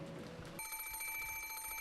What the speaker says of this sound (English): suddenly the piercing sound of a phone rang through the room